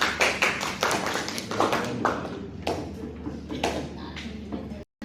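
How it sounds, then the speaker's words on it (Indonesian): Scattered clapping from a classroom of students, uneven bursts of hand claps mixed with thumps and shuffling, fairly close and ending in a brief dropout. "Tepuk tangan untuk Ami dan Nadia."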